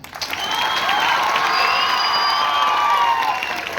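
At a Sambalpuri Day event at a high school, a crowd claps while children's cheering and shouting voices rise over the din. The sound swells after a brief start and stays loud and sustained.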